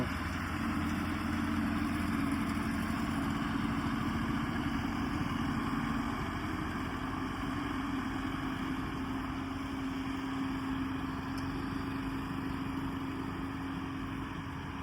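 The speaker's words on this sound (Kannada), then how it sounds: "ಇಲ್ಲಿ ಅನ್ಲೋಡಿಂಗ್ ಮಾಡ್ತಾ ಇದ್ದಾರೆ ಇದನ್ನ HMT ಗಾಡಿಯಿಂದ." An HMT 6522 tractor with a 65 HP engine runs steadily during unloading work outdoors, a loud, even mechanical drone that holds without pause throughout.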